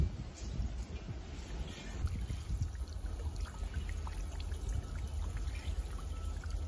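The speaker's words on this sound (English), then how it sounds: "we're going to fill it with water, purge the rest of that gas out before we do anything else" Water running into an empty propane tank to purge leftover gas, a steady gushing pour with a hollow, burbling trickle that continues evenly throughout at moderate level, no one speaking.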